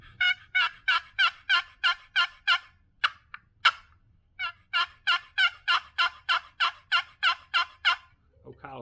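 A custom wooden turkey box call is scraped in quick rhythmic runs of gobble-like yelps, with a steady series, a brief pause with a few single strokes, then another long run, close and clear.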